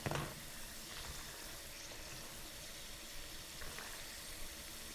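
Peanuts frying in a pan on a home stove, giving a steady, even sizzle and crackle at low level throughout, with no one talking.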